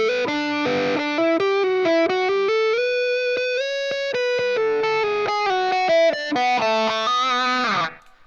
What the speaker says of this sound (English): You can really get some cool tones using a wah pedal